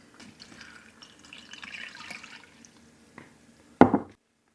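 Cold water poured for soaking 8 grams of sheet gelatin for a white chocolate and raspberry cake, a soft trickling and dripping under quiet kitchen noise, ending in a brief louder splash.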